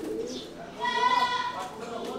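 Soft pigeon cooing close by, a low throaty murmur that swells briefly in the middle, with faint background noise.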